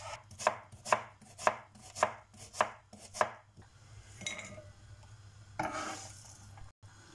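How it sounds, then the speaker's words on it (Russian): Rapid knife chopping of onions on a board, a steady run of sharp close taps that then slows into softer, scattered cuts and scraping. "Дальше я беру 2 средних луковицы и мелко нарежу"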